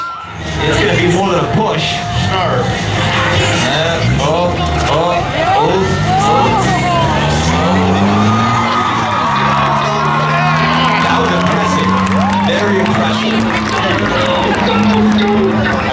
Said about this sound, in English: He wants you to scream loud so the car works.